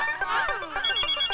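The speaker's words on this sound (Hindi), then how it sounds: "ये जब तक फोन नहीं चकेंगे ना तब तक वो रिंग बजाता रहेगा" A boss's mobile phone plays a bright, melodic ringtone in a Hindi sitcom scene, with a looping electronic tune and sliding notes. It rings close and clear, with no voices over it.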